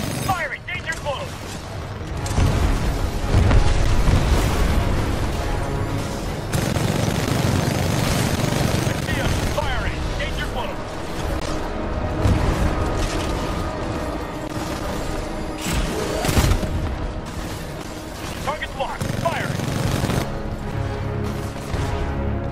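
Artillery fire and explosions rumble in the video game Titanfall 2, heavy booming bursts and clanking mechanical noise rolling continuously under shouted radio chatter and game music.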